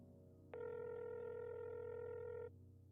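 In a video game, a phone call connects with a steady electronic tone that switches on abruptly, holds for about two seconds, then cuts off cleanly over a faint low background hum.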